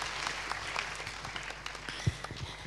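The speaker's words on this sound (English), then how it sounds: "Let's hear a round of applause for the" Audience applause for the panelists at a business conference panel, fairly quiet and scattered clapping from a room of listeners with a few sharper claps and a soft thud standing out.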